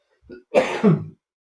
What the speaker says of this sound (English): Sorry, a bit of a cough.